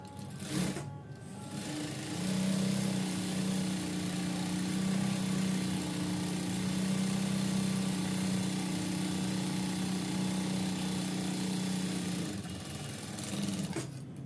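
A sewing machine stitches stretch pant fabric with a steady, close mechanical whir that runs continuously after a short start, pauses briefly, then hums on, with no voices.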